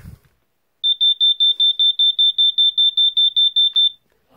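A First Alert SA80FD smoke detector under test emits a loud, fast series of high-pitched electronic beeps, about fifteen even pulses in a steady run before stopping abruptly in an otherwise quiet room.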